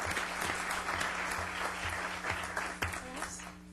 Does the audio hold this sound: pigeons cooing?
no